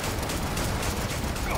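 Pistol fire in the sci-fi video game Starfield, a rapid burst of loud overlapping shots that fill the short moment densely and up close, with no voices over them.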